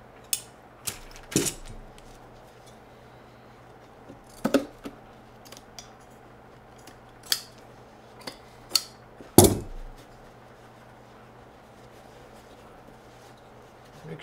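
Scissors cut through Malian mud cloth fabric for ottoman upholstery, giving a series of sharp, irregular snips and clicks spread over the quiet stretch, close and fairly crisp.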